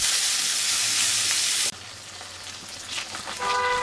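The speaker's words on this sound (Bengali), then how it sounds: "মাছগুলো ভাজা প্রায় হয়ে গেছে," Large katla fish belly pieces fry in hot oil with a loud, hissing sizzle that suddenly drops to a softer crackle partway through.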